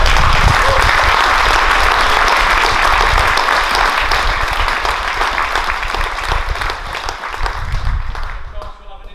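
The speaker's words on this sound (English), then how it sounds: "So I just think a quick round of applause," Loud, sustained applause from a gathered audience honouring Cumbria firefighter recruits at their pass-out ceremony, with dense clapping that carries on steadily before thinning out at the end.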